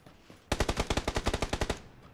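A burst of rapid automatic gunfire in PUBG, about fourteen sharp evenly spaced shots lasting just over a second, loud and close after a short quiet lead-in.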